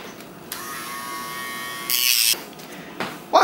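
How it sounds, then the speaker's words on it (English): A Dremel rotary tool whirs with a high steady whine as it is used to cut and round off edges, with brief louder bursts of grinding contact and short pauses between passes. "Take the Dremel."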